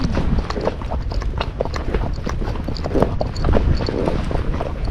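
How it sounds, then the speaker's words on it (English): Hooves of a ridden horse clop steadily at a walk, close and fairly loud, a continuous uneven rhythm of hoofbeats with faint background noise. "Beautiful horse."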